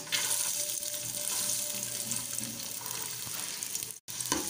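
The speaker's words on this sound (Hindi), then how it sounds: "अब हम इसमें डालेंगे प्याज" Chopped onions sizzle and crackle steadily in hot oil in a cooking pot, a continuous close frying hiss with no voices over it.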